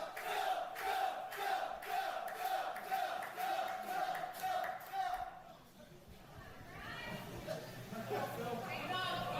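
A wrestling crowd in Hicksville chanting rhythmically in regular pulses for Phil Cardigan, then breaking into looser cheering and chatter, with a commentator talking over it.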